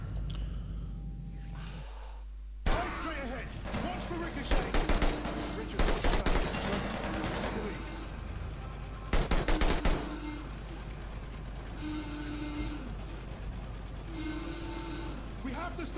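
Enemy blind fire in the Call of Duty Vanguard campaign, several loud bursts of automatic gunfire breaking in between quieter game noise, with someone speaking over parts of it.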